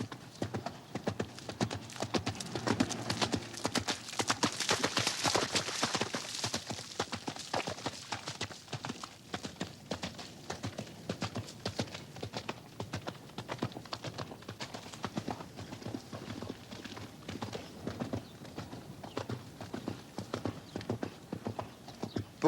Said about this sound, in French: Pour un cheval, le galop, c'est une autre façon de courir.